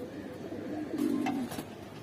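Giribaz pigeons coo softly in a short, close burst of low, throaty murmurs, with a brief rise in the middle.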